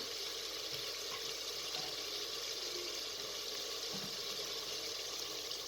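Three glasses of water poured into a cooking pot of fried masala and meat for a shaljam gosht (turnip and mutton) curry, giving a steady, fairly close rushing splash that runs unbroken throughout with no talking.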